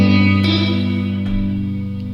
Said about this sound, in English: pretty much just reverb without any warble thing going on